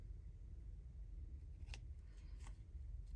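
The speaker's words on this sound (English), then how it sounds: "I just need to trim here," Scissors trimming paper while making Christmas journal bags, giving a few faint, brief snips over a low steady background hum.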